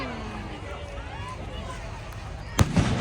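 Fireworks crackle and whistle in the distance at an outdoor display near a fire, with faint rising whines and a sharp bang near the end, under a background of crowd noise.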